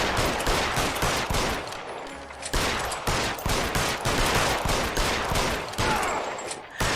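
Sustained gunfire in LA Noire: dense, rapid volleys of shots that pause briefly and then resume, loud and continuous throughout.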